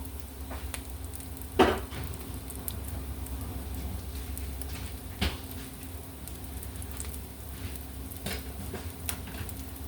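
Margarine sizzling in a pan while cheesesteak sandwiches are cooked, a quiet steady crackling fry with a few sharper clicks and scrapes, close by and without talk.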